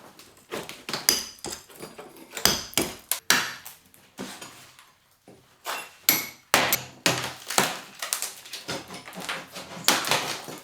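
Hammer and chisel strike ceramic floor tiles during demolition, giving a fast irregular run of sharp, loud knocks and cracking impacts with brief pauses between bursts.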